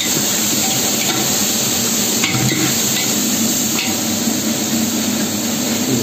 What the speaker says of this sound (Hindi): अच्छे से फ्राई होने देना।